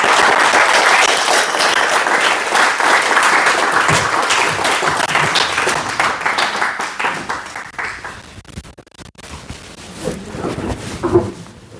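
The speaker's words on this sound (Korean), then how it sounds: "다시 한번 우리 대표장님께 큰 박수로" Audience applause after a lecture at an academy, a loud, dense burst of many people clapping that gradually thins and fades, with scattered claps and a few voices near the end.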